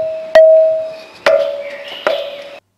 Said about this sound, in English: Now, here's the sound of a temple bell.